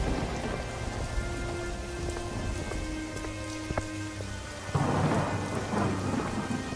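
Heavy rain pours steadily with rolls of thunder and a sharp crack partway through, the downpour growing louder near the end, no voices present.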